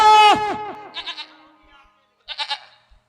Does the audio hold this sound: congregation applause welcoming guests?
no